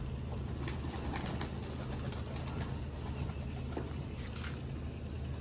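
Pigeons shuffle and flap their wings in a loft, with soft scattered wingbeats and faint cooing against a steady low background hum, no voices.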